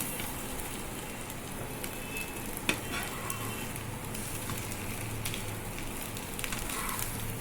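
Food frying crisply in a pan for a home breakfast, a steady quiet sizzle and crackle with a few faint spatters and clinks, no voices.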